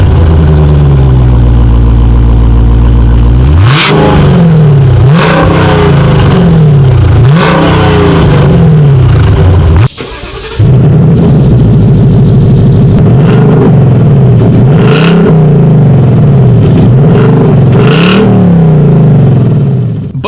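A 2019 Dodge Challenger Scat Pack and a 2019 Ford Mustang GT, both V8s, play loud, close exhaust clips: a deep cold-start roar, then repeated throttle blips and revs that rise and drop, with a short break midway and no speech.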